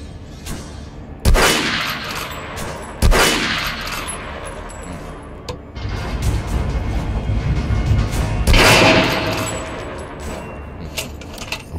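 Rifle volleys crack out sharply in Metro Last Light, with distinct shots at intervals over sustained rolling gunfire and echoing rumble, loud and near.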